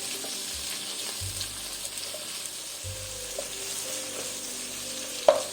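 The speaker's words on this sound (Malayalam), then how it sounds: "ഈ തക്കാളിയുടെ പച്ചമണം മാറുന്ന വരെ ഇതൊന്ന് വഴറ്റി കൊടുക്കാം" Chopped onion and tomato sautéing in a pan for breadfruit masala curry, a close, continuous sizzle with occasional utensil scrapes and a sharp clink near the end, no voices.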